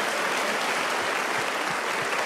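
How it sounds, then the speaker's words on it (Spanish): A church congregation applauds during a Spanish-language sermon, giving a steady, dense wash of clapping that fills the room without pause. "Vamos, dese un aplauso ahora porque usted es un profeta de Dios."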